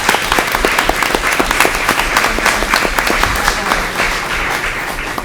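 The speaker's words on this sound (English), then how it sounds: "they really deserve a round of applause for supporting us" Audience at a meeting breaking into loud, sustained applause, many hands clapping densely and evenly close by, with no voices on top.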